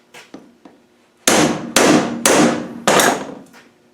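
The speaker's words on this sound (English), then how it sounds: "get a hammer" A hammer drives a piston into a tool during a Malawi 110 brake caliper rebuild: four loud, close metallic blows in an even rhythm, preceded by a few lighter taps.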